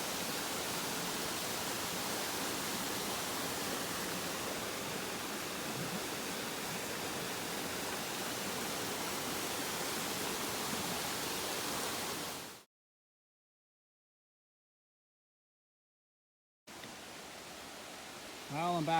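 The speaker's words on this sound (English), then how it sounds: "Alright, this must be Junction Falls." Junction Falls pours down Waterfalls Creek in the Rockies with a steady, loud, close rushing roar. The roar cuts out into a few seconds of silence, then resumes.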